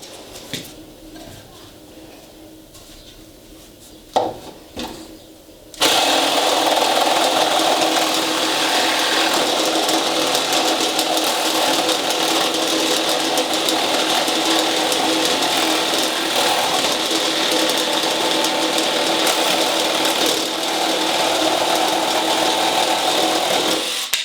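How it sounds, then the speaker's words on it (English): DeWalt reciprocating saw cutting through nail-embedded wood, a loud continuous buzzing, rattling cut that starts abruptly after a few quiet seconds and runs steadily to the end. "Nail embedded wood with the DeWalt."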